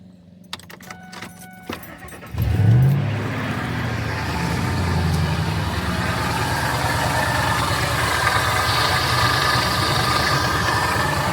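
A 1999 Ford F-150 pickup with a 4.6-liter engine starts after some metallic clicks, then idles steadily with a rough, rattling noise from the front running underneath.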